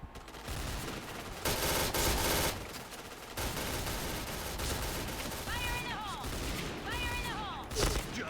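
Bursts of M4A1 assault rifle fire in the shooter game Point Blank, loud and close, with repeated volleys over a busy mix of game sound effects and a few electronic chirps.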